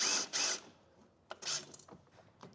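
Ratchet working 7/16 factory boot clamps loose on a second-gen Cummins intercooler, heard as a few short bursts of clicking, two close together at the start and a couple more later, with quieter clicks trailing off.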